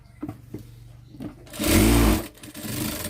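A sewing machine stitches a joint on a churidar pant in one continuous whirring run of under a second, loud and close, with quiet handling clicks before and after.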